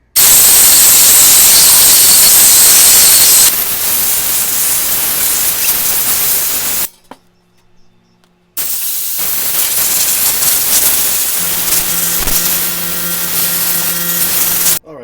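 Air compressor nozzle blowing a steady loud hiss of air through Heritage Rough Rider revolver parts to dry them, two long bursts separated by a short pause, with faint background hum.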